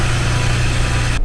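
A RAM 1500 EcoDiesel pickup engine idles at a raised, steady speed around 1,200 rpm, a loud close rumble with a constant low hum, then cuts off abruptly at the end.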